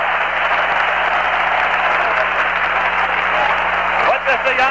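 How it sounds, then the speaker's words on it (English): A ballpark crowd gives pitcher Tom Seaver a loud standing ovation during a Mets versus Cubs game. Applause and cheering hold steady throughout, with no talking over them. "Seaver back to the dugout with another ovation"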